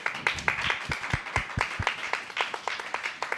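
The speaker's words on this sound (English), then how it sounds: "one last applause, please" Applause from an audience at the close of a digital summit event, a steady patter of many hands clapping at moderate distance with no talk over it.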